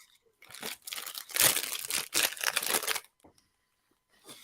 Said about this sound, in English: I was still unwrapping anyway.